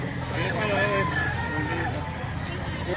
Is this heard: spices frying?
no